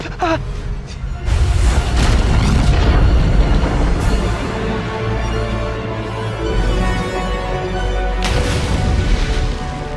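Loud booming blasts from explosions set off during the filming of a Bumblebee action movie, one big boom followed by a sustained rumbling roar with later bursts, dense and close throughout.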